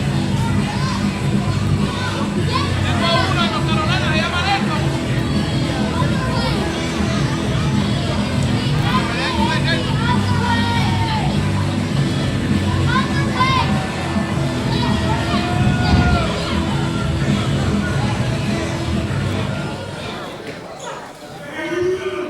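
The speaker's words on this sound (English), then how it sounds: "Standing room only crowd in Fernandina Beach not happy to see the Violent Gentleman" A standing-room-only crowd at a wrestling event in Fernandina Beach roars continuously and loudly, with shouts, jeers and dense babble that swell and fade over the whole stretch.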